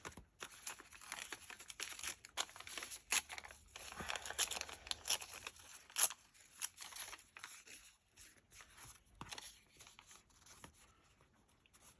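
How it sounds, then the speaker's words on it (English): Paper being torn and crinkled by hand while making craft ephemera for a winter journal, a series of close, papery rips and rustles spread through the stretch with brief pauses. "I can either rip a piece and put it up there"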